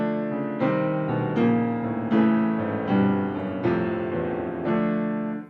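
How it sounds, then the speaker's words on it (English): Piano left hand playing a chromatic bass line from Rachmaninoff's Corelli Variations, Variation 19, stepping through octave leaps, notes entering every half second or so with sustained chords ringing above, steady and moderately loud. "So together, the left hand sounds like this."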